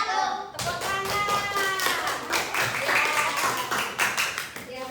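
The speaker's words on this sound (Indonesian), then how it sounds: "Tepuk tangan." Children clapping in a classroom, a burst of quick, uneven claps that starts abruptly and continues with rhythmic patter, with children's voices and chatter mixed underneath.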